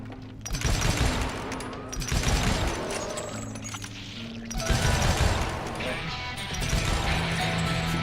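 Gunfire in the Western shooter Call of Juarez: Gunslinger, loud repeated bursts of shots with crashes and ricochets, in uneven waves across the whole stretch, and a voice talks over it at times.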